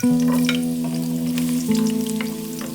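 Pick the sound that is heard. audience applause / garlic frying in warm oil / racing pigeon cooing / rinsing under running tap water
garlic frying in warm oil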